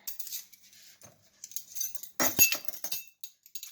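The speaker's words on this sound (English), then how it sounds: "so get my spoons over here" Metal measuring spoons jingle and clink close by as they are picked up for hot dog chili sauce, in light scattered taps with one louder rattling burst midway.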